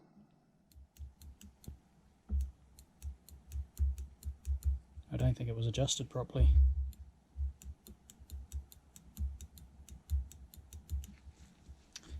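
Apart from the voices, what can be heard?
click of BMW K100 motorcycle throttle switch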